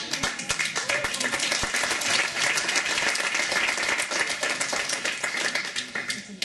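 A church congregation claps loudly and steadily throughout, dense overlapping applause with scattered voices mixed in, close and sustained.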